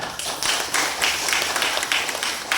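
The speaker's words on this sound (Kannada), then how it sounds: "ಯಾರ್ಯಾರು ಅನುಭವಿಸಿದಿರಿ ಜೋರ ಚಪ್ಪಾಳೆ ಕೊಡಿ" An audience in a hall applauds, producing dense, continuous clapping at steady loudness throughout, with no voices rising above it.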